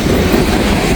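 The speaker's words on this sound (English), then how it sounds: "We got a pretty good train here." Close and loud, a freight train hauling railroad ties rumbles by in one continuous roar, with clattering wheels over the rails.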